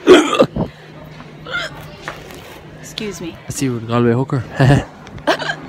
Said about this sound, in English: like it's those hiccups, they're brilliant